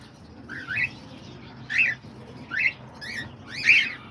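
Pet birds, including lovebirds, diamond doves, budgies and cockatiels, chirp close by in four separate short, bright bursts spaced about a second apart. A soft, low background murmur sits beneath the calls.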